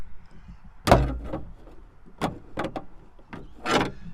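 A screwdriver pries at a yellow clip inside an 80 series Landcruiser door, giving several sharp, close plastic clicks and knocks spaced irregularly amid quiet handling noise.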